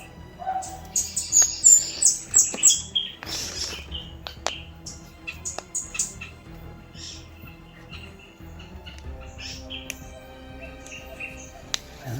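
Birds chirping outdoors: a burst of short, bright calls and tweets clustered near the start, then sparser chirps spread over a quiet background with a faint insect-like hiss, fairly close and clear with no talking.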